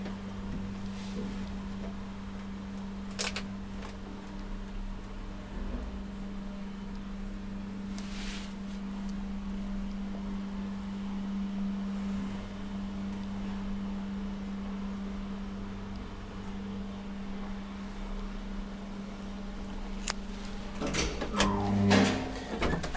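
An old Kone traction elevator in a Leppävaara, Espoo apartment building runs through a ride with a steady low hum, faint mechanical rattles and a few soft clunks, and louder knocks near the end as the car arrives.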